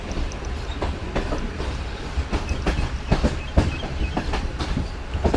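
Shalimar Express train rolling through Shahdara on the main line, with a steady, loud rumble of wheels and rhythmic clickety-clack of car joints passing over rail gaps, close and continuous with no voices.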